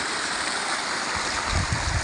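Water pours over a brimming village dam in Gundasari, Jamkandorna taluka, a dense roaring rush that stays constant, with low rumbling surges near the end.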